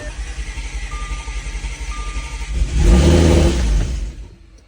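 An Audi S5 under rebuild cranks with a pulsing starter rhythm, catches and flares into a loud rumbling run for about a second and a half, then fades away as the engine dies.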